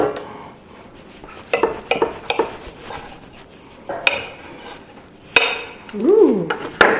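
A knife cuts seared filet mignon on a plate, giving sparse clinks and scrapes of metal on ceramic, close and intermittent, with a brief voice near the end.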